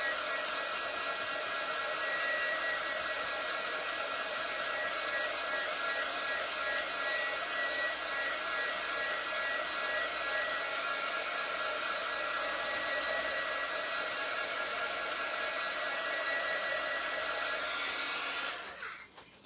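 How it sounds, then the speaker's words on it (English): Hair dryer drying craft glue on a door hanger, a steady close whirring whoosh running continuously at moderate level, then cutting off near the end. "You can also use a hairdryer, which is perfect for this as well."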